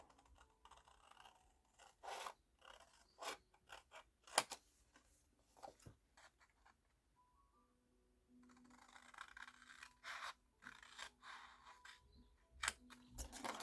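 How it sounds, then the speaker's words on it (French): Scissors trim the corner triangles off a paper card, producing faint, irregular snips and light scraping rustles at close range in a quiet room. "Moi je le fais avec ma paire de ciseaux."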